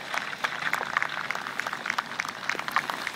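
Outdoor crowd at a model aircraft meeting applauding after a landing, a thin steady patter of scattered hands heard from a distance.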